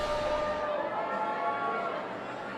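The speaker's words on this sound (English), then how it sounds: "It's getting increasingly harder to hear you guys with this crowd behind me. Hundreds of people celebrating right now." Hundreds of supporters celebrate loudly at Ted Cruz's 2018 Texas election watch party, their dense crowd chatter and cheering forming a constant roar.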